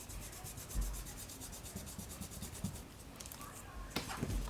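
A stamp being rubbed firmly onto an altered playing card for junk journal ephemera, making soft, fast, repetitive scrubbing strokes close up, with a quiet voice now and then in the background.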